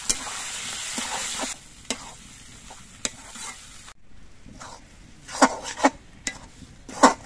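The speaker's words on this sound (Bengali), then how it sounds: "এবার কচু বাটাটা নেড়ে রেখে সব কিছুর সঙ্গে মিশিয়ে দিতে হবে" Mashed elephant-foot yam paste being stirred in a frying pan, with a soft sizzle underneath and intermittent scraping strokes of the spoon against the pan, getting sharper and more frequent toward the end.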